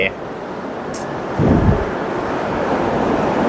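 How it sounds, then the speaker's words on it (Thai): Strong cold wind on the seaside at Kamakura, Japan, roars and buffets the microphone continuously, with a heavier gust midway, while surf rumbles in the background. "วันนี้อากาศเย็นลมแรงมากเลยนะครับ"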